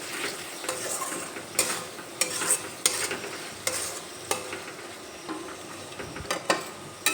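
Pointed gourd is stirred with spices and salt in a pan: a spatula scrapes and clacks against the metal in irregular strokes over a soft frying sizzle, close and clear.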